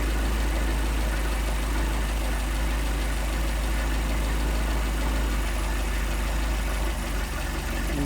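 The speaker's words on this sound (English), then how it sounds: "screw the idle mixture screws in and out until you get the best running" A Mercedes 190SL engine fitted with Solex carburetors idles steadily, a loud, continuous low rumble with a slightly uneven beat throughout, no voices.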